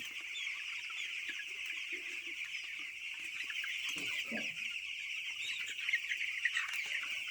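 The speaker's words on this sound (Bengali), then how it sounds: "এখানে কতগুলো মুরগি আছে" A crowded flock of broiler chickens on a poultry farm at night clucks nonstop in a dense, steady chatter, with a few louder calls rising toward the end.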